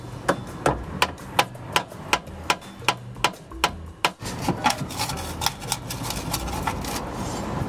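A steel drift struck with a hammer to tap out a pin beneath the rear wheel bearing housing on a VW T25/T3 van, giving a steady run of about a dozen sharp metallic knocks, then a looser flurry of lighter taps.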